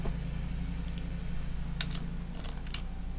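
A few scattered, faint keystrokes tapped on a computer keyboard over a steady low electrical hum, sparse and quiet, with no talking.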